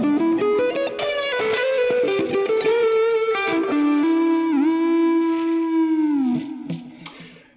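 Electric guitar with P90 pickups played through a Hotone amp-modeler preset, sustained distorted notes and bends ringing loud and alone, with brief crackling from a faulty cable near the end as the tone fades.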